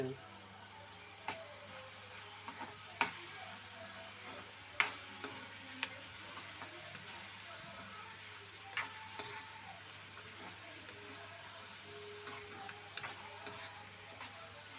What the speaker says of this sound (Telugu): ఇంకొంచెం మగ్గాలండి, కొంచెం గోల్డెన్ బ్రౌన్ కలర్లోకి వచ్చారో చూద్దాం.